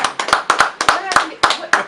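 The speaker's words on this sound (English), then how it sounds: "Let's clap it up, man." Several people clap in a radio studio, a quick burst of sharp, close handclaps in uneven rhythm lasting about two seconds, with voices talking over it.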